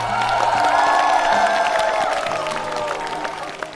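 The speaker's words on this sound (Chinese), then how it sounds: "掌声送给朋友妈妈们。" Studio audience at a Chinese comedy show applauding and cheering, a steady dense wash of clapping with a few whoops, loud and continuous throughout.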